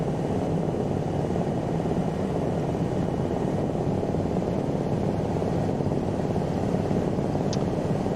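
Lama SA315 helicopter near an airport in strong, gusty wind, a steady broadband rotor and turbine drone held at constant loudness throughout, with heavy low rumble and no voices.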